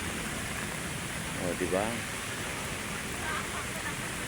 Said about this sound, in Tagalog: ang lakas ng ulan, guys, oh. Ang lakas.